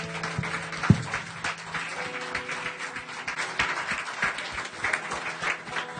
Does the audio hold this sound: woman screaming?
no